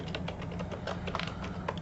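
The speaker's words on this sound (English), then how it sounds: "now we can just start typing" Rapid, steady keystrokes on a computer keyboard, close and continuous with small irregular bursts and no voices.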